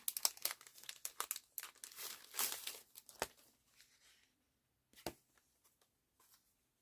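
A plastic packet of DMC embroidery thread being opened: close crinkling and crumpling of thin plastic in quick bursts, then a pause, followed by a few fainter rustles near the end.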